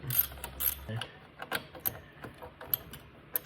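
A ratchet with long extensions loosening a car part, a quick series of sharp metallic clicks and clacks in short uneven bursts, close and fairly quiet.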